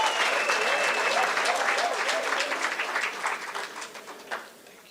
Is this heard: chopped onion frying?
no